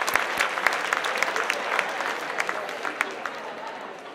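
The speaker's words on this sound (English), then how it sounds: "big round of applause for all of you" Steady applause from a conference audience carries on throughout, a thick mass of many hands clapping at moderate loudness that thins slightly toward the end.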